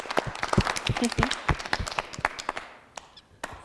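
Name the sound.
audience applauding for the bride's mother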